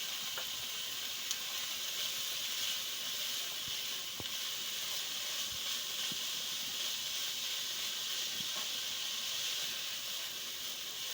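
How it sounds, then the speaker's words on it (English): Sausage and onion cooking together in a pan, a soft steady hiss of frying with a few faint clicks, fairly quiet and without speech. "Put my sausage in with the onion."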